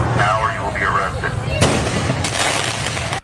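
Fireworks set off by protesters at an anti-ICE rally in Brookhaven being broken up by police, heard as loud sharp bangs and crackling bursts close by, over crowd noise and shouting.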